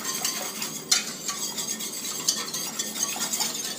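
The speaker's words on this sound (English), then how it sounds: "I just get the whisk and just whisk it" A whisk working flour quickly into a Czech sweet tomato sauce (rajská omáčka) in a pot, brisk rhythmic swishing with light metallic clinks against the sides, close up and without talk.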